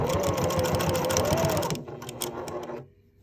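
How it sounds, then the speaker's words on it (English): A sewing machine stitches through gathered shirt fabric, its fast steady motor whir running loud and close, then slowing briefly before stopping near the end. "we're going to take a few stitches"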